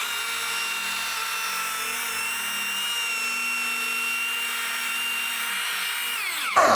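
A machine polisher runs at 1600 RPM, spreading polishing compound over a sanded finish with a steady high whirring whine at close range. It ends in a brief louder scrape or burst, and there is no talking.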